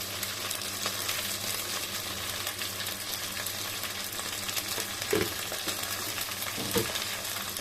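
Spices sizzle in a pan for a beef curry while being stirred, a soft continuous frying hiss with a couple of brief scraping strokes of the spoon, close and fairly quiet with no talking.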